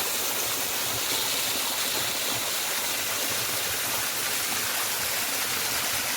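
A small mountain river, running low after a long dry spell, flows in a steady, loud broadband rush and gurgle with no pauses or voices.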